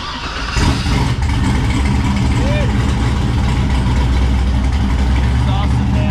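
A twin-turbo LSX-swapped Cadillac Escalade runs on a dyno, its engine a loud, continuous, close-up roar that holds steady throughout, with a voice briefly audible over it.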